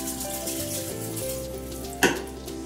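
A half cup of Uncle Ben's whole grain rice drops into a hot pan, giving a sharp burst of sizzling and frying near the end over a steady low hiss and hum.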